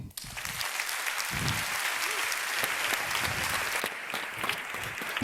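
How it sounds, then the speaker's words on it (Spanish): An audience claps steadily and densely for several seconds, a continuous wash of applause that stays loud throughout. "Recibe el aplauso ahí, hombre."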